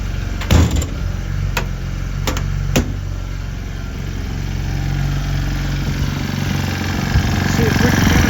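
An old Craftsman engine runs at a steady idle close by, a continuous low rumble broken by a few sharp knocks or clanks early on.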